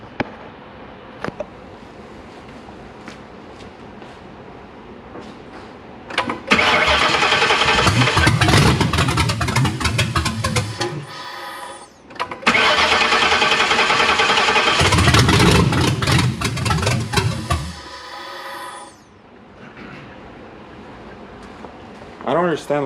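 A Ford Crown Victoria with a swapped 7.3L Godzilla V8 cranks and fires up loudly, runs rough for a few seconds, dies, then restarts and runs again before cutting out, with people talking in between.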